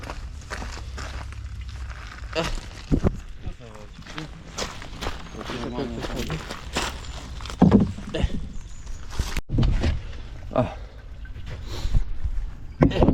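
Oars splash and knock rhythmically against water and a wooden rowing boat, with people talking loudly in Polish and laughing nearby throughout.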